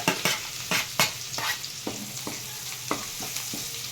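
Grated garlic, green chilli and coriander frying in butter in a pan, with a soft sizzle under a series of sharp, close spatula scrapes and taps that come in irregular bursts and then thin out.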